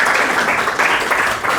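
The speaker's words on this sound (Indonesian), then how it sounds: "tepuk tangan buat Lintang" Audience applause after a presentation at a teacher performance test, a dense burst of clapping filling the short moment.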